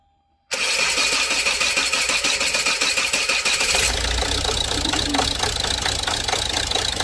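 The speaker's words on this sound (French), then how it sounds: "Donc bah vas-y, mets le moteur en route." A car engine with a faulty cylinder head gasket starts abruptly after a moment of near silence, then settles into a loud, uneven idle with a rough, knocking rhythm.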